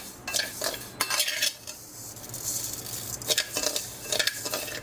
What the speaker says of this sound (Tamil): நல்லா பொன்னிறமாக வறுத்துக்கிறேங்க